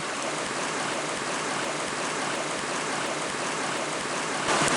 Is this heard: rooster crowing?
no